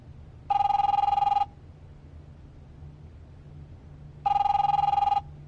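An old-style telephone rings twice in The Wolf Among Us video game, each ring a loud, steady electronic trill lasting about a second, separated by a low background hum.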